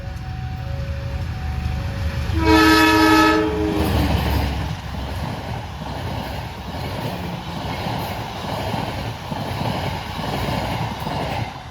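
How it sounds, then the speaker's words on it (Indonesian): An Indonesian Pasundan Lebaran long-distance passenger train sounds a loud multi-tone horn blast, then rumbles and clatters past close by in a steady rolling roar with rhythmic wheel beats. "telah melintas kereta api Pasundan Lebaran ya"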